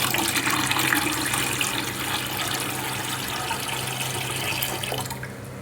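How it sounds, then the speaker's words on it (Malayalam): Water poured steadily over soaked mango seed paste in a vessel, a loud continuous splashing rush close by that softens near the end, with no talk. "ഇനിയും വെള്ളം ഒഴിച്ച് വയ്ക്കണം."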